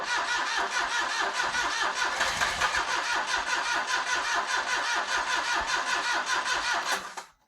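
A 2009 Smart Brabus engine cranks with a rapid, even starter churn for about seven seconds, up close and loud, then cuts off abruptly.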